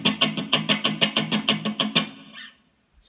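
Guitar strummed with the pick striking the strings in a down-down-up-down-up pattern: about ten sharp, even strokes in quick rhythm, a short ringing tail, then silence, close and alone.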